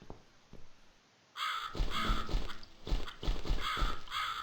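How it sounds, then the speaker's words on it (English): Crows caw repeatedly in The Cat Lady video game, a cluster of loud, harsh calls following a brief quiet stretch with a few faint ticks, the caws overlapping in an irregular rhythm close by. "Alright, so now we got birds."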